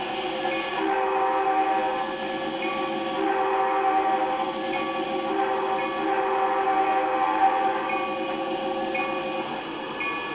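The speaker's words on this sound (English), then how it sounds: "He's gonna sound the horn." A diesel locomotive rumbles and grinds with steady metallic wheel noise, while long tonal horn notes sound over the din at moderate distance.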